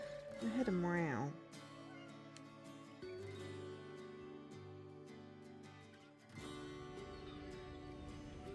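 A single cat meow rises and falls at the start in the Hidden Cats in London video game, followed by soft ambient game music with occasional clicks.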